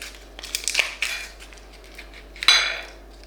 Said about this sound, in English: Take a knife and carefully cut out the top and peel back the foil.